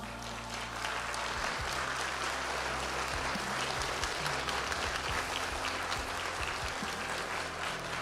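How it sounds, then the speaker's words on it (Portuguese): Audience applause at a Christmas church program fills the whole stretch, a dense, steady wash of many hands clapping in a large room with a low hum underneath. "Eu acho que eles merecem uma salva de palmas."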